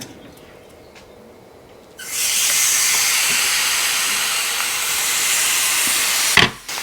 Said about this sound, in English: let's get these steaks over to the stove and get them seared